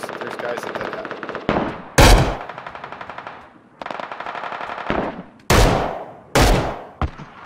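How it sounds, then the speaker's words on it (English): Shooter video game gunfire: loud, sharp volleys of rapid automatic shots in several bursts, broken by a few heavy single blasts, with occasional speech between them. "Nice shot, Zach."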